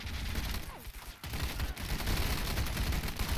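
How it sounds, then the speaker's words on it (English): Heavy Call to Arms battle fire, a dense, continuous fusillade of overlapping gunshots and rattling bursts that forms a loud wall of combat noise with no gaps; no talking. "See, we've got extremely heavy fire here."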